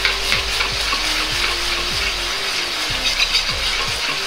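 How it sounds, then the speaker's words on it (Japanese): Sugar water is stirred over medium heat in a pan with the bottom of a ladle for candied sweet potatoes, giving a continuous bubbling sizzle under regular scraping strokes about twice a second, close and fairly loud. "砂糖水をお玉の底で混ぜていきます。"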